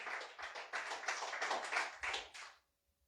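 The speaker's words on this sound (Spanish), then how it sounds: "Dele fuerte aplauso al Señor" A church congregation claps for God in a short, fairly faint burst of rapid hand claps that lasts about two and a half seconds, then stops abruptly.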